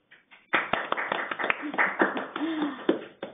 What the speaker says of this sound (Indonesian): Kita beri aplaus dulu buat presenter kita.